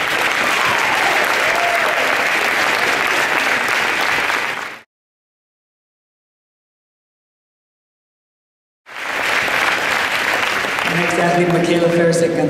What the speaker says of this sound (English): So about a big round of applause for both their academics and their athletics.